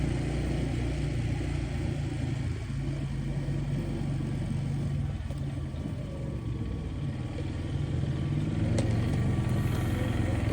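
Four-wheeler ATV engines hum steadily while riding down a country road on a cold day, a continuous mid-pitched drone with wind rush and no talking.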